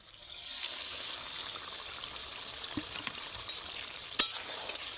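Fried pointed gourd pieces going into a pan of spiced gravy, a steady hiss of simmering and sizzling with a couple of soft clinks and stirring sounds near the end.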